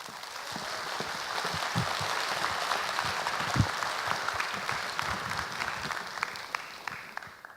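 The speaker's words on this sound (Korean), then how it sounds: "박수 부탁드리겠습니다." Audience applause at a Korean talk show on considerate traffic culture, a steady patter of many hands clapping at moderate volume, with a few sharper claps standing out near the middle.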